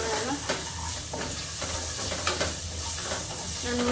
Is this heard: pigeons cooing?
no